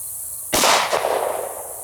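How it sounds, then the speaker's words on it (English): A Glock Gen 4 Model 19 firing a 9mm +P 147-grain jacketed hollow point into ballistic gel: a single loud, sharp report followed by a short ringing echo that fades over about a second. "we're going to start out with the Glock Gen 4 Model 19, and we're loaded up with the 9mm plus P 147 grain jacketed hollow points"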